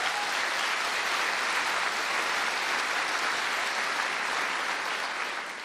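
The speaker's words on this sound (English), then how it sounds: "Give them a round of applause" Audience applause for volunteers who took part on stage, a thick, even wash of many hands clapping that holds steady throughout and eases slightly at the close, fairly faint and unaccompanied by speech.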